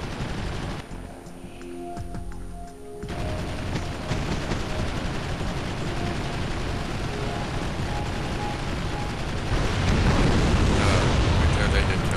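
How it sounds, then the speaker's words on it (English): Gunfire in the battle game Wargame: European Escalation, a dense, continuous crackle of distant small arms and heavier bursts that barely lets up, swelling louder near the end; a voice talks faintly over it. "There's some shooting."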